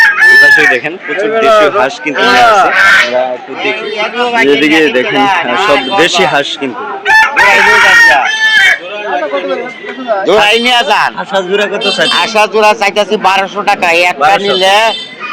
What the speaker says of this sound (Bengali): আজকে হাঁসের বাজারটা মোটামুটি কিন্তু বেশ জমজমাট আমরা দেখতে পাচ্ছি